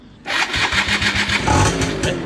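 A Yamaha F1ZR motorcycle starter cranks briefly and heavily after long disuse, then the engine fires up and sputters into a rough, pulsing run, close and fairly loud.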